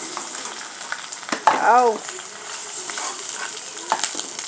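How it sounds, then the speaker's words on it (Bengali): Five eggs frying in a pan, a steady close sizzle with scattered spatula scrapes, interrupted briefly by a short vocal sound from a person. "5টা ডিম ভেজে নিলাম।"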